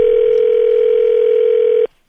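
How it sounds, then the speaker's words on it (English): A telephone dial tone opens a prank phone call, a loud, steady continuous tone that holds for nearly two seconds and then cuts off abruptly. "Rick Smiley Morning Show got a hilarious prank phone call"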